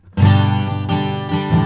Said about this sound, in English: I'm playing right over the sound hole.